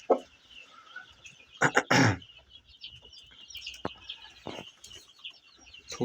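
Chickens pecking at freshly scattered feed in a coop give scattered soft clucks and short calls, with a few louder bursts of fowl noise over a quiet background.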